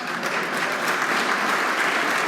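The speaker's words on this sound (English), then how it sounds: "stand up and get a round of applause" A banquet hall crowd at a sports hall of fame dinner applauds an honoree's mother and wife, a dense, steady wash of many clapping hands, loud and continuous with no pauses.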